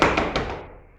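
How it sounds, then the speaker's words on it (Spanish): Feet stomp on a floor in a few close, dull thuds. The first is strongest and the rest trail off into a quiet decay, with no talking. "cuando zapateamos con nuestros pies suena así"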